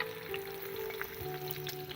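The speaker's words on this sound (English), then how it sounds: "Alright, the fish are cooking." Smelt fish frying in hot oil, a steady close sizzle running throughout with faint tonal hum in the background.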